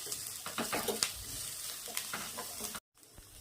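Chopped coconut and garlic cloves dry-roasting in a pan, a steady close scrape of stirring with soft crackle, broken by a brief silence near the end before the stirring resumes.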